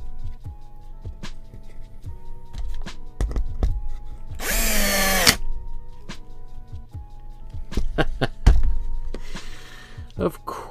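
A power drill whirs in a short burst into wood blocks, splitting the wood, surrounded by knocks, clunks and handling noises.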